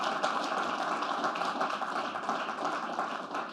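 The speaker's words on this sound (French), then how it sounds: "Bonne main d'applaudissements d'ailleurs pour nos panélistes." An audience at an expert panel on fleet electrification claps for the panelists, a dense, even patter of many hands that carries on steadily throughout at moderate volume.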